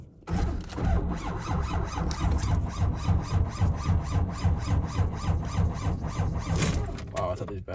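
A truck engine cranks over repeatedly on weak batteries, a steady rapid chugging starter rhythm that runs nearly the whole stretch, loud and close, with a brief sputter near the end.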